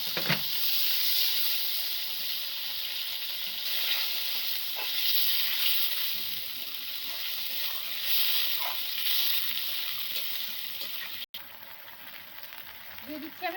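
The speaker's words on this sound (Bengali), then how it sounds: "লাল লাল হয়ে গেছে জিরে, শুকনো লঙ্কা, তেজপাতা, এবার আমি মশলাটা দিয়ে দিচ্ছি।" Cumin, dried red chillies and bay leaf sizzle steadily in hot oil for a Bengali rui fish curry with potatoes, a loud, continuous hiss with faint stirring clicks that drops in intensity near the end.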